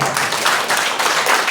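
A church congregation applauding for Jesus during a Sunday worship service, a loud, dense burst of clapping filling the room for a moment with no voices over it.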